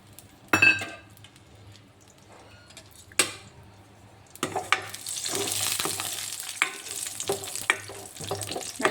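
Nuts frying in ghee and vanaspati in a kadai: a quiet start with a couple of sharp metallic knocks, then a rising bubbling sizzle with scattered clicks of a spoon stirring the pan.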